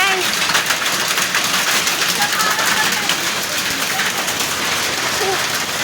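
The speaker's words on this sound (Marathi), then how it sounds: "पूर्ण गारांचा पाऊस होत आहे एकदम मोठ्या मोठ्या गारा पडतायत" Dense, continuous pelting of large hailstones hammering surfaces, a steady loud roar with scattered harder impacts throughout.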